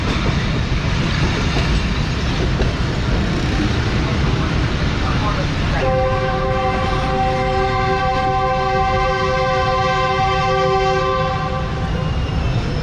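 Subak Raftar railcar train on the journey to Lahore, braking near a level crossing, with a continuous loud rumble of running and a sustained horn blast sounding partway through, heard from inside.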